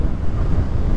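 Wind buffeting a microphone while riding a Dualtron Raptor II electric scooter outdoors, a loud continuous low rumbling roar that fills the whole moment without pause.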